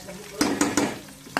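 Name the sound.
coriander and mint sizzling in tempering oil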